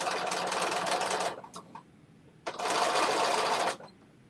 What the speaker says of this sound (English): I'm putting this strap, this top stitch down to stitch my bias tape down.